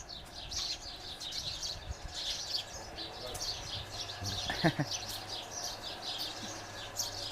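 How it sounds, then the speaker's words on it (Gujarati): Thousands of birds at a bird-feeding site chirp, twitter and coo repeatedly in the background, steady high calls, with a brief louder burst midway and faint low murmur beneath. "પક્ષીઓ જે બોલે છે એ સાંભળો."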